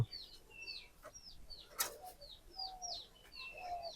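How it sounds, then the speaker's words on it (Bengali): Pigeons in a pigeon house, one of them sick, give soft repeated coos and calls over about four seconds, with a brief flutter of wings partway through, all fairly close and moderately quiet. "এই কবুতরটা একটু অসুস্থ"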